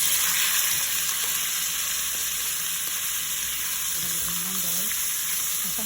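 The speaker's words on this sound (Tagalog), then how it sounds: "Dito po natin siya gigisa." Chicken sautés in hot oil in a pan for a Filipino masala chicken dish, giving a continuous bright sizzle with occasional stirring scrapes, close and steady.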